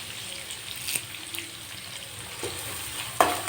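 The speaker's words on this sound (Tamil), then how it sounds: "அதையும் சேர்த்துட்டு நல்லா வதக்கி விட்டுருங்க" Green chillies, shallots and curry leaves sauté in a pan for samba wheat rava upma, with a steady close sizzle and occasional scraping stirs and clinks.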